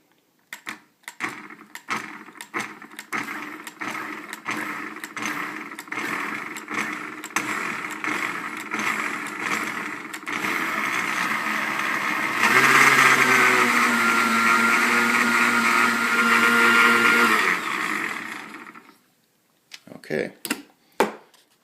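A blender making bulletproof coffee, first pulsed in short repeated bursts, then running continuously and rising to a louder, higher whir before cutting off, close up with a little talking at the end.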